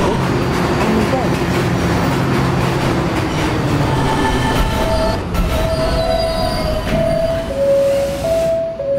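A D train in a Roblox subway game rumbles and clatters loudly, then its wheels squeal in high drawn-out tones as it slows near the end.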